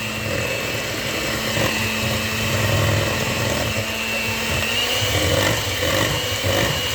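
An electric mixer beats pizzelle dough in a bowl with a constant close motor hum and faint scraping, running steadily throughout.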